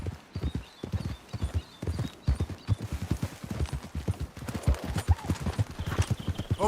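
Horses gallop in the video game Red Dead Redemption 2, a rapid, steady clip-clop of hooves, close and continuous, with faint background sounds and a brief whinny near the end.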